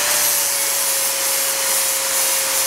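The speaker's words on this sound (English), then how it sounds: "So they have different kinds of flap disc sanders." A flap disc sander grinds a metal weld with a loud, continuous, rough hiss and a steady high motor whine, close and unbroken, with no talking.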